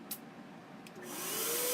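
A paint sprayer in a paint booth starts up after a faint click, its steady hiss and whine swelling over the last second and holding loud and constant.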